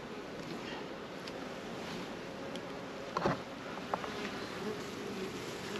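Honey bees buzz steadily around an open beehive in a September apiary, a soft continuous hum with a few closer passes and small knocks of hive handling.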